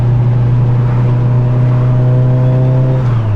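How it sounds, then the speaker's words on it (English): A Mitsubishi Evo 8 with a turbo, internal wastegate and O2 dump pipe drones loudly with a steady, strong engine tone, a faint whistle rising near the end as the gate opens and the pitch shifts. "First time hearing the gate open."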